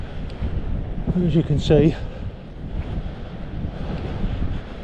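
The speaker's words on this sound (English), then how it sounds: "it's a bit windy" Steady wind rumbles across the microphone with a broad surf-like roar underneath, while someone speaks briefly over it.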